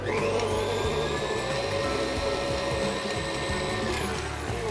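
An electric mixer whirs steadily at high speed through pumpkin-fluff pie filling, a loud, close, continuous motor drone with a faint rattle in the bowl and no talking.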